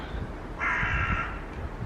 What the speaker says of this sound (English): just as I start talking, a crow comes out of nowhere